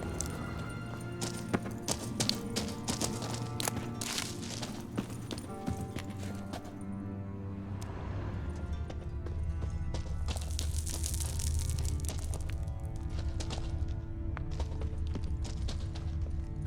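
Horse hooves clip-clop across the ground in The Witcher 3, a rhythmic galloping beat under a bed of game music and ambience, with a louder rushing passage midway and no voices.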